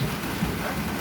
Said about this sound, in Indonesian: Hujan ini.